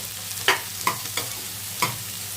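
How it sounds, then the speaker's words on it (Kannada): Potatoes with fenugreek leaves fry in oil in a pan, giving a steady sizzle broken by several sharp clinks and scrapes of stirring; close and moderately loud, with no talking. "ಆಲೂಗೆಡ್ಡೆ ಹಾಕಿ ಇದನ್ನು ಆಯಿಲಲ್ಲಿ ಸ್ವಲ್ಪ ಫ್ರೈ ಮಾಡ್ಕೊಳ್ಳೋಣ"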